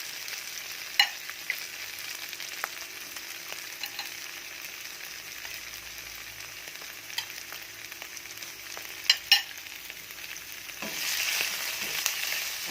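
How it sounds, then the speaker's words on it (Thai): Tofu and shiitake mushrooms fry in a pan with a low, steady sizzle, broken by occasional clicks and scrapes from stirring, and a brief louder burst of sizzling near the end. "แล้วก็ตามด้วยเห็ดหอมนะคะเขาจะได้หอมหอม แล้วก็ตามด้วยเต้าหู้นะคะ เต้าหู้จะได้เหลืองนิดๆ"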